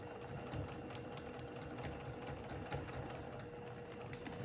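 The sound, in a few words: sewing machine back stitching a quilt block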